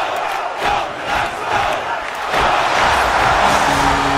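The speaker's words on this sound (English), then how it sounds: "as you kind of build up positive events, it really gets the home crowd kind of riled up." Riled-up home hockey crowd in NHL 24 roars loudly, a dense swell of shouting and cheering that builds and grows fuller toward the end.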